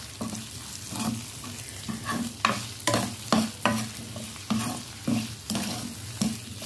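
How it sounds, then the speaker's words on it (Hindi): Potato and eggplant fry in a pan with salt added, stirred in repeated scraping strokes over a continuous close sizzle, with no talking. "और इसको अच्छे से भूनने देती हूँ और इसमें मैं थोड़ा सा डाल देती हूँ नमक ताकि जल्दी भून जाएगी। और इसको अच्छे से मिक्स कर लूँ।"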